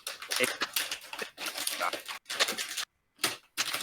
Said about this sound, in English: We can't hear you over Reader digging through his Oreo tray